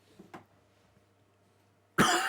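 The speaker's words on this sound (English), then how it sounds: "And I have a bit of a cough." A man with a slight cough gives a faint, short cough, then after a quiet pause lets out one loud, harsh cough close to the microphone.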